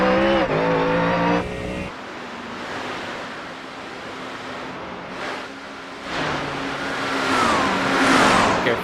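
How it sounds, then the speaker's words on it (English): A race car at the 24 Hours of Spa in iRacing, a high engine note that drops away, then a steady broadband roar of tires and wind, with a second car's rising whine closing in near the end. "There's a car approaching."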